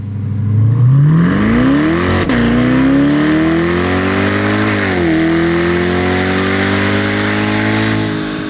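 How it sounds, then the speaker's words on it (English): Supercharged electric C8 Corvette E-Ray strapped to a dyno, its loud steady drivetrain whine sweeping upward as it pulls, dipping briefly, then holding a sustained high tone to the end. "now we're at the point of strapping it down to the dyno and seeing what kind of power it puts down"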